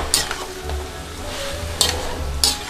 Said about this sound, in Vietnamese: các bạn xào cái này, các bạn xào với lại cái lửa lớn nha